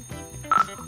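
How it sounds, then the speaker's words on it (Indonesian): A phone alarm going off during a GTA V roleplay stream, a brief bright electronic ring of a few quick pulses, heard near and fairly loud. "itu alarm kayaknya. Oh itu alarm aku."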